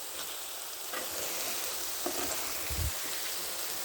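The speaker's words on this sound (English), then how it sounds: "Now I'm going to flip them again." Food sizzles steadily in a frying pan, a close hissing crackle with a few soft scrapes and a low clunk as pieces are flipped, and no talking.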